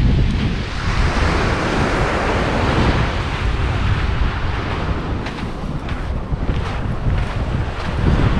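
Surf rolls in and wind buffets the microphone at Lara Beach in Antalya, a steady, loud wash of waves with gusty rumble and no clear talk throughout.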